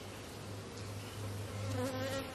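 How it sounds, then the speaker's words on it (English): Irritable honey bees drone steadily around an open hive during a honey harvest, a dense, continuous buzz that swells slightly as individual bees pass close, with no talking. "These bees are a little bit irritable"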